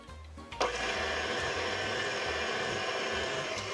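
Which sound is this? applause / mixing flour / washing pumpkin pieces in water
mixing flour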